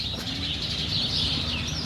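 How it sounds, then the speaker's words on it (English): Bird chirps, either from real birds or a hidden speaker, in a town in the Berkshires during fall; steady high twittering sits over constant low outdoor rumble throughout, with no voices. "I'm walking back here because of the chirpy sounds."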